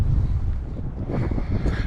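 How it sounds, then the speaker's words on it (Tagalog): Strong wind buffets the microphone in a loud, steady low rumble with gusty surges, no voices. "Lakas ng hangin."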